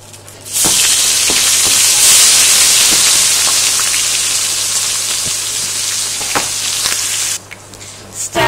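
Onions sizzle loudly and steadily in a hot pan for jollof rice after fish has been fried, a dense broadband hiss with a few sharp pops and clicks, cutting off briefly near the end.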